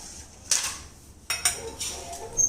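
Cooked food goes into a bowl at home, bringing a few light clinks of dishes and utensils at irregular moments, close by and fairly quiet.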